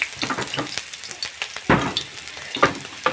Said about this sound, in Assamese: কেৰাহী তেলো গৰম হৈ গ'ল। ইয়াত দি দিম মই আদা নহৰুখিনি।